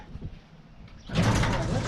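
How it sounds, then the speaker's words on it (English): A garage door being pulled shut in a home workshop, a short soft rustle and then a loud broadband rolling, rumbling slide that lasts until the end. "shut this door."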